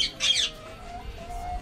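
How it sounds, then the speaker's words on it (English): An Amazon parrot lets out a loud, harsh squawk at the start, followed by quieter outdoor background sound with no speech. "Nice Amazon parrot, you know."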